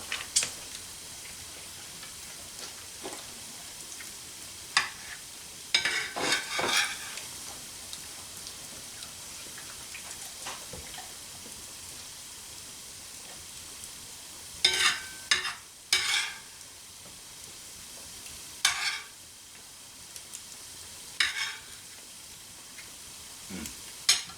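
Bacon and eggs fry in a cast iron skillet over a hearth, giving a soft continuous sizzle with scattered crackles and pops and occasional louder bursts of spatter, close and fairly quiet.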